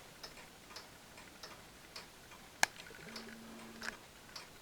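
A triple chiming mantel clock ticks steadily, roughly twice per second, close and quiet, with one sharp metallic click partway through and a brief low hum near the end.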